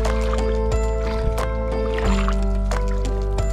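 A boat crossing Lake Coiselet in the Jura, with a steady low engine hum and tonal drone throughout, plus small knocks and splashes of water against the hull close by.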